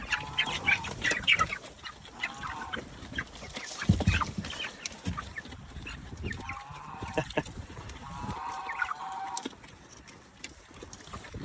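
A group of farm chickens clucks and squawks as food is dropped in, with overlapping bird calls in bursts, some thumping and rustling, all moderately near and fairly quiet.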